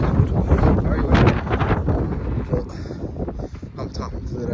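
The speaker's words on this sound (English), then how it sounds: "Very windy." Strong, cold wind buffets the microphone in loud, gusty roars that ease off toward the end, with no clear speech over it.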